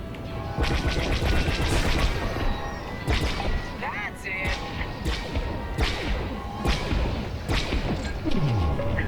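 Bombs dropped onto the core in the video game Starhawk explode in a steady run of loud, close blasts and thuds, with a voice speaking briefly over the constant game noise.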